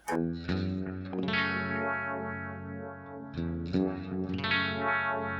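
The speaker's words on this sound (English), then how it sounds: "It turns off the octave, and I just have the clean guitar sound." Clean electric guitar chords ring out through a Sonicake Matribox II effects unit, octave effect off, shimmering with chorus and a touch of echo, played close and steady.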